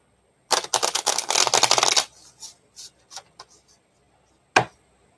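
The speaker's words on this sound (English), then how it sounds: "I do shuffle these real good in between" Rapid riffling of tarot cards being shuffled for about a second and a half, then a few softer taps and one last sharp card knock.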